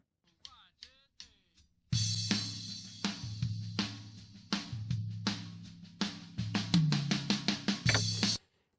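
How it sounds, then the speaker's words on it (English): Soloed tom drum tracks from a country song mix, a series of sharp tom hits with low kick-drum boom and spill from other microphones, starting sparse then quickening into rapid fills, no talk. "If you listen to, let's just solo the toms by themselves."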